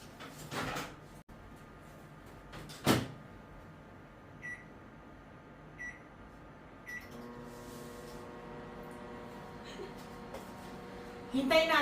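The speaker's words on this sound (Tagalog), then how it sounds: "I-microwave ko lang to ng 1 minute." A kitchen microwave oven is set for one minute: a few short, evenly spaced button beeps, then a steady electrical hum as it starts running, close by with light handling noises.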